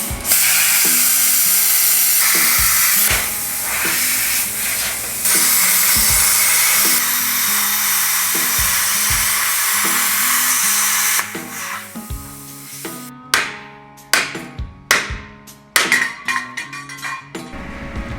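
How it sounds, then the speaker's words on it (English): A plasma cutter cutting brackets off a vehicle axle: loud, close, continuous hissing roar in long bursts, with the arc stopping and restarting between clattery, intermittent cuts toward the end. "I'll just break out the plasma cutter and we'll get all these brackets cleaned."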